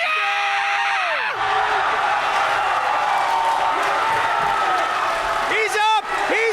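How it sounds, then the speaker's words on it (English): Arena crowd at a wrestling show roaring and screaming on its feet, a loud sustained wall of cheering with shouts rising over it and a voice speaking briefly at the start and near the end. "This crowd is electric, Brian, on their feet, jumping."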